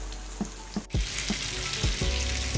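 Fish sizzles in hot oil in a pan over a medium flame, with steady crackling and spattering and a few sharp pops and clatters close by.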